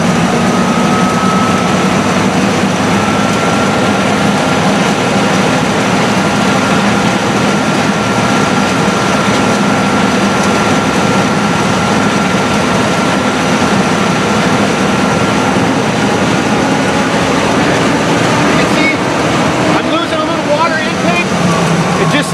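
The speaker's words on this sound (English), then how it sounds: "my engine just came back down to the last known stable pressure that it had" A fire engine's pump running under a total pressure governor, settling back to its last stable pressure: a loud, continuous low mechanical drone with a steady hum, unbroken for over twenty seconds.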